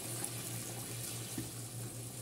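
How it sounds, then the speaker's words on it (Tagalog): Hot boiled water is poured into a cooking pot in a steady, soft splashing stream, moderately close, with a low hum underneath and no talking. "maglagay na tayo ng tubig mainit. Ayan, pinakulong tubig yan."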